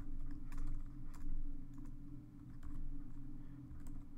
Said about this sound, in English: then we type in the correct password